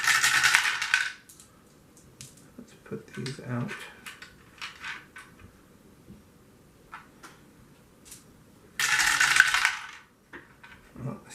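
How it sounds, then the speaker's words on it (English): Six dice rolled for a golf-themed board game, two bursts of rattling clatter on a tabletop at the start and again near the end, with a person talking quietly in between. "So what we'll do, we'll roll these 6 dice."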